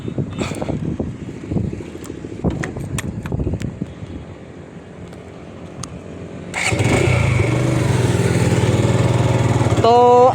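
A motorcycle ridden from 300 Feet Road, its engine and wind rumbling steadily after a quieter stretch with scattered clicks and knocks, then growing louder and constant toward the end; no clear speech.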